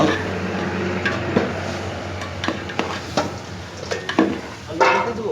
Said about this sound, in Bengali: আমরা ভাজা আলুটা দিয়ে দেবো।